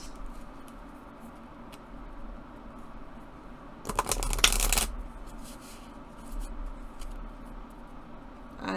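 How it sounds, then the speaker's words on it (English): A deck of oracle cards being shuffled by hand, soft riffling and sliding card sounds that build into a brief, denser burst of shuffling midway, close and fairly quiet with no talking. "let's go ahead and shuffle these babies and see what wants to come out on this special day. And shuffling, very nice."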